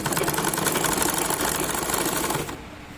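An ordinary domestic sewing machine stitches a square-neck nightie with a loud, fast, even mechanical whirring that stops abruptly near the end.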